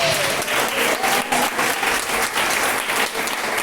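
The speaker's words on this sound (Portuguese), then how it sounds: "Exalta Jesus com palmas nessa noite." A church congregation claps loudly and continuously during an evangelical service, a dense steady wash of hand claps with no voices clearly heard.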